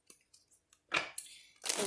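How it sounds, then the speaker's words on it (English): A deck of tarot cards being shuffled, quiet soft ticks followed by two brisk riffling bursts, close and alone. "let's give these cards a shuffle"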